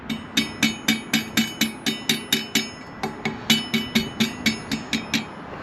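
Loose disc brake rotor bolts on a Planet X Tempest Ti bike rattle in a rapid, even series of sharp metallic clicks, about three per second, close and loud with ringing overtones, no voices.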